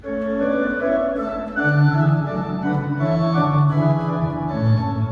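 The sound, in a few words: keyboard caribel flute voice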